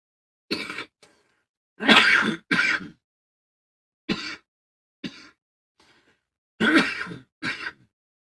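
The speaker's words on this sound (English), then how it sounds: "Sorry for coughing in your ear." Several loud, close coughs in bursts, some doubled, separated by short silences, with a few softer throat-clearing sounds between them.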